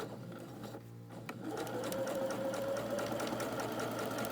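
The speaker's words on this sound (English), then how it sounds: "And sew right over that." A sewing machine stitches a quilt seam, starting with a few short bursts and then running as a steady, close, continuous mechanical whir through to the end.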